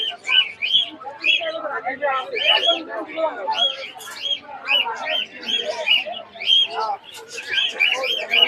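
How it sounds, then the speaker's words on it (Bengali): Pigeons at a pigeon market in Hemayetpur on a rainy day, with a dense run of chirps and calls from many birds close by and a faint voice underneath. "জোড়া কবুতর বের করতেছে"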